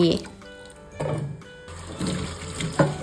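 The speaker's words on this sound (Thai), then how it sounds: "จากนั้นก็มาล้างน้ำสะอาดอีกรอบหนึ่งค่ะ" Mulberries being rinsed in clean water, with splashing and running water in uneven surges, close by and moderately loud.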